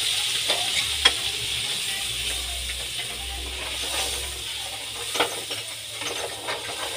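Ground masala, cooled and strained into hot oil for chilli paneer gravy, sizzles and hisses steadily with soft stirring scrapes and occasional clinks throughout.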